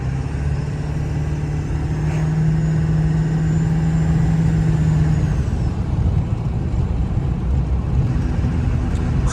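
A 7.3 diesel truck engine runs steadily while cruising down a street, a loud continuous rumble with a tonal whine that fades partway through, heard close with no talk.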